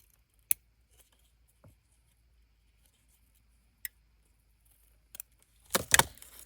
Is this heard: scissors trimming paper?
yes